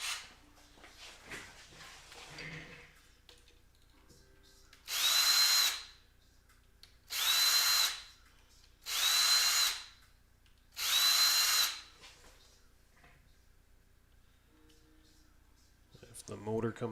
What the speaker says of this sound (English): let me get the drill